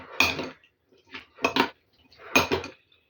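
A spoon scrapes and clinks against a bowl in three short strokes, close by with pauses between them and no talking.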